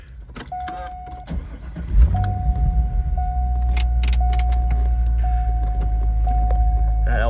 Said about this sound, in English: That LS1 has an awesome starting sound to it.